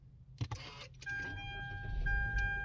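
A Mitsubishi Xforce started with the push button: a few clicks and rustles, then the engine catches and settles into a steady, fairly quiet idle with a faint constant tone.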